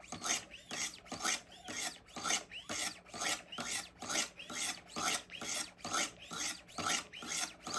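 A Benchmade knife blade is drawn against the stones of a Wicked Edge sharpening system, a steady run of rhythmic rasping strokes, roughly two per second, close and clear.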